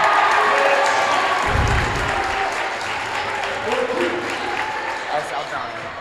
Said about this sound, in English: Viator crowd getting back into it